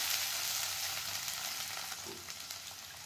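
Fenugreek greens are tempered in hot oil for a Gujarati methi bhaji dish, giving a loud, steady, close sizzle of frying that hisses on without a break.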